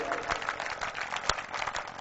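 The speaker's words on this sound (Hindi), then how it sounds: "एक एक शख्स जोरदार तालियों से उनका इस्तकबाल कीजिए" An audience at a mushaira, an Urdu poetry gathering, claps steadily in a dense, continuous patter of applause from a crowd, heard close with some voices mixed in.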